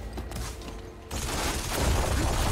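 Gunfire erupts in Horizon Forbidden West as a sudden dense volley bursts in after a quieter stretch, a loud continuous barrage of shots that holds steady to the end.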